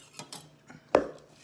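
A spoon clinks and scrapes inside a bowl of meatball mixture with breadcrumbs, a few soft knocks followed by one sharper clink, close and without speech.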